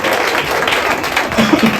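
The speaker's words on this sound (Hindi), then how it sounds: "हम जोड़ा ताली बजाएं खुदा के लिए, बहुत जोड़ा ताली बजाएं।" A church congregation claps together in worship, a dense steady wash of hands close by filling the whole moment, with faint voices mixed underneath.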